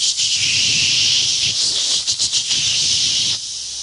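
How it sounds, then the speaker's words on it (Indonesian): Tofu, tempeh, crackers or fish frying in hot oil make a loud, steady sizzling hiss throughout, briefly crackling and bubbling before easing slightly at the end. "Lagi goreng tahu, tempe, goreng kerupuk, goreng ikan, itu suaranya kan kenceng toh lagi goreng itu."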